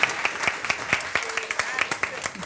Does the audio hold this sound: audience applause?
yes